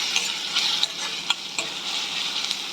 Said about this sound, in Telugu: ఇవి వేసేసినాక మనం కలపకుండా ఉండకూడదండి కలుపుతూనే ఉండాలి